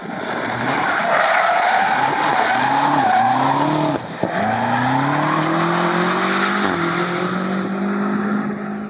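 A powerful twin-turbo V8 engine in a 2018 BMW M5 (F90) roars continuously while accelerating, rising in pitch through several gear shifts with a brief drop near the middle, loud and close.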